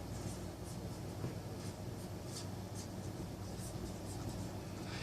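Faint marker or chalk strokes scratch in short bursts on a board during a genetics lecture, quiet against a steady room hiss with no speech.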